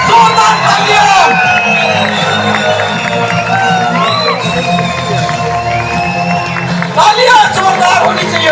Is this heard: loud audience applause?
yes